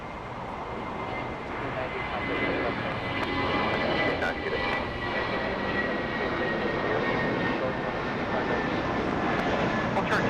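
Jet airliner departing Los Angeles International Airport, a broad, steady engine roar that swells slightly and holds for the whole stretch, heard from a distance across the airfield.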